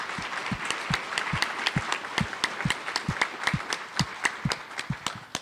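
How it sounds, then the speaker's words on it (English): A workshop audience claps and applauds at the close of a facilitated dialogue session, with sharp, distinct hand claps from a smallish group sounding close and steady for several seconds, no voices. "So give yourselves a big round of applause for doing that work."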